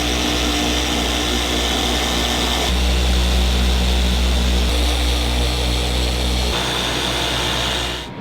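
A car paint polisher fitted with a polishing pad runs continuously on a Subaru STi, a loud, steady motor whine and hum whose pitch shifts slightly as the load changes, close by with no talking.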